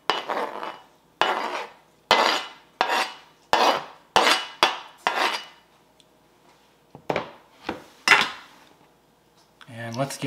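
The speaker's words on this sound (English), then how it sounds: "And let's give that a good stir" Spam cubes being stirred into a broccoli, cheese and rice casserole in a pan, as a series of about a dozen distinct scraping spoon strokes in an uneven rhythm, close and clear, with a brief pause partway through.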